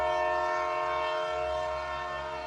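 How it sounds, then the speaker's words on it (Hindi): A train horn blows as one long, steady, loud chord-like blast with a low rumble beneath, fading slightly toward the end, with no voices. "तभी वेदा को ट्रेन के हॉर्न की आवाज सुनाई दी।"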